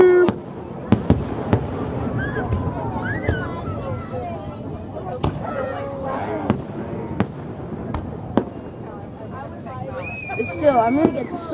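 Fireworks bursting at Morgan's Park: repeated sharp bangs and crackles, some near and loud, with rising whistles, under steady chatter and excited voices from the crowd.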